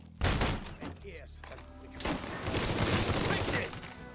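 Bursts of rapid automatic Tommy gun fire in Mafia III, a short volley, a pause, then a longer sustained burst, loud and close.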